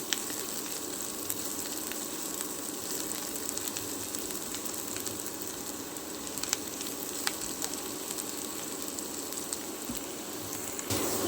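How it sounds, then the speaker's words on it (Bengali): Whole garlic cloves frying in hot oil for a vegetable curry, a continuous dense sizzle and crackle at steady loudness, close by, with occasional small pops and no voices. "এই রসুনটা আমার ভাজা হয়ে গেছে"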